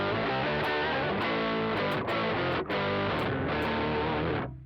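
A distorted electric guitar runs through a Mooer Tender Octaver MKII octave pedal with the drive turned down, loud sustained chords with a doubled low octave, a few short breaks between strums before cutting off.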